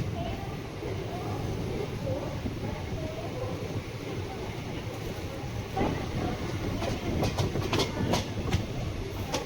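The Palakkad Superfast Express runs from Chennai Central toward Palakkad on the Salem–Coimbatore line, heard from on board as a continuous rumbling roll with rhythmic clickety-clack over rail joints, with faint voices underneath.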